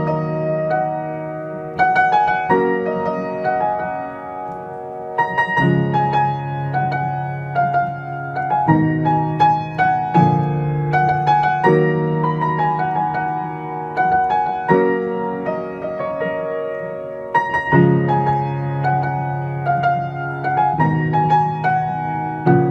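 Solo piano plays the chorus melody of a Eurovision 2016 song, a steady, sustained phrase with repeating motifs over low chords, close and full for over twenty seconds, no voices.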